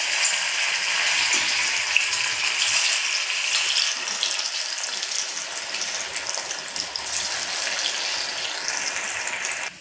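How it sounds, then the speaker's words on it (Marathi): Kothimbir vadi, coriander fritters, fry in hot oil with a loud, steady, close sizzle and crackle that runs unbroken throughout, with no talking. "मग आपण वडी तळून घेऊया"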